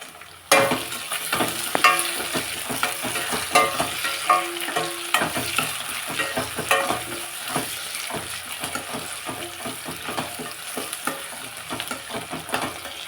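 Tomatoes frying in a pan with already-fried, mashed potatoes for a potato palya, a steady sizzle broken by repeated close stirring scrapes and knocks, with no talk.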